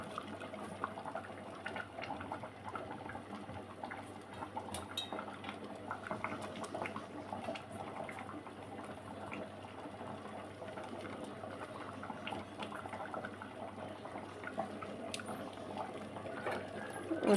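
A pot of goat tripe tomato curry simmers, with quiet, steady bubbling and small popping spatters throughout.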